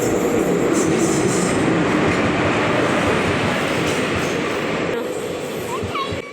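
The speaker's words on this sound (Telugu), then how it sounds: "ట్రైన్ అయితే వచ్చేసిందండి." A train pulls into a station, a loud, continuous rumble of wheels and carriages close by with a rhythmic clatter and a brief squeal near the end, with a voice faintly audible at times.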